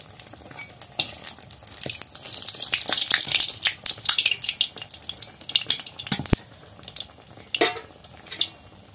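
Pitha rice cakes fry in oil over a fire fed with jute sticks, giving a steady close sizzle with scattered clinks and scrapes of a utensil against the pan.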